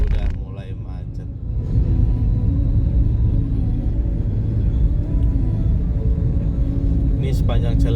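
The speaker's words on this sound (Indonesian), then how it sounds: "lalu lintasnya sudah mulai macet" Road traffic in a jam along a city street, heard from inside a moving vehicle as a steady low engine and road rumble that stays loud and continuous throughout.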